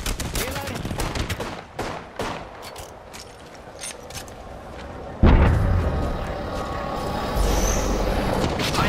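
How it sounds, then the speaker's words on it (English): Enemy gunfire from the Apex Legends video game: dense bursts of rapid automatic shots and impacts, loud and close, with a heavier blast-like surge midway and continuous game-battle noise throughout. "The enemy is shooting at me."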